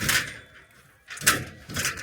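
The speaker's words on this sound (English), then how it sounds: "oh no, now the door won't shut" A door is pushed against its frame and won't shut, giving a few dull knocking thuds and rattles in bursts, close by, with no talk.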